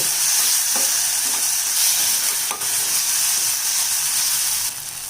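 Tomatoes sauté in a hot pan for a quail egg fry, a loud, steady close sizzle with a few sharp scraping stirs.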